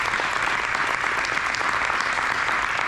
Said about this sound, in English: Can you give them a round of applause again?